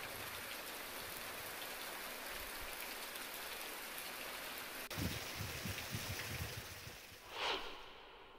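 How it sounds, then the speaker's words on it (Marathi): Steady monsoon rain falls in Sindhudurg, a continuous close hiss of drops on surfaces, broken near the end by a soft thump and a brief rushing swish. "आज जिल्ह्यात सर्वत्र चांगला पाऊस झालाय।"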